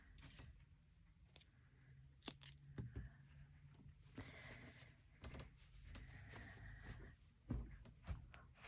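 Scissors snip crochet yarn while a pompom beanie hat is finished, giving faint, close clicks and small metallic rustles scattered irregularly through a quiet room.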